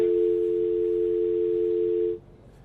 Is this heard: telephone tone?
yes